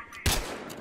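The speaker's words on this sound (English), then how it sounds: "I hear so many gunshots, man" Gunfire in the multiplayer shooter Battlefield Hardline, a single sharp shot or short burst that stands out against the ongoing battle noise of the game.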